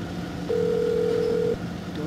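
A phone dialing tone in the video game Silent Hill: Shattered Memories: one steady electronic beep lasting about a second, set against a low, constant background hum.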